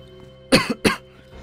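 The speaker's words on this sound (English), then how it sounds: "having a cough would also equal a tickly throat at the same time, which in turn brings on more cough" Two quick, sharp coughs close to the microphone, the second following right after the first, with near silence around them.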